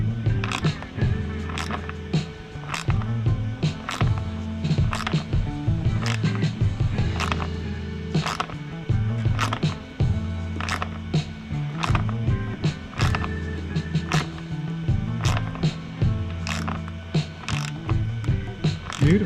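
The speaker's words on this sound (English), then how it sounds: "the cutting tool is uneven, so it will gently pull itself through the bumper" A cutting tool pulled through a car bumper to chamfer its edge gives a steady, loud run of rapid ratcheting clicks and grinding snaps that keeps on without a break.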